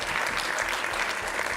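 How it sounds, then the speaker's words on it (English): Steady audience applause from a crowd at a motivational speech, dense and continuous clapping filling the whole stretch at even loudness, no voices standing out. "Give him a round of applause"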